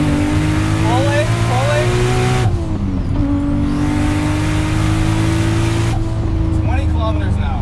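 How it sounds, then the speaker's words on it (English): An 876 whp MK3 Toyota Supra with a turbocharged 2JZ and S366 turbo pulls hard in third gear, its engine roaring loud and close with rising pitch, dipping briefly twice before climbing again. "We'll pin it and then we'll see how quickly that S366 actually spools up."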